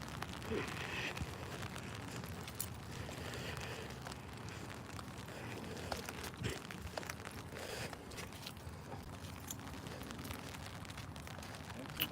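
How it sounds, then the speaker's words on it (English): Rain falls during an afternoon walk outdoors, a steady soft hiss of drops pattering on surfaces with occasional footsteps, fairly faint and continuous throughout. "It's raining presently."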